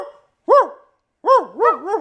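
A man imitates a dog with his voice, giving one yelping bark, a pause, then a run of three rising and falling barks, loud and close.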